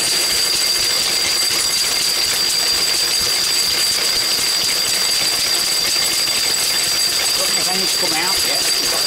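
A Lister D stationary engine drives a paint mill grinding chalk, running slowly with a continuous loud mechanical chugging and rattling plus a steady high whine, all sustained evenly throughout.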